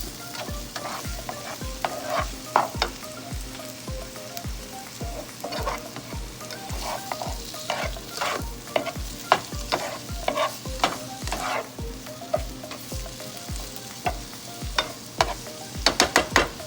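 Shrimp and vegetables stir-fried for restaurant-style shrimp fried rice, with a spatula scraping and clacking in a steady rhythm against a hot pan over constant close sizzling, and no one talking.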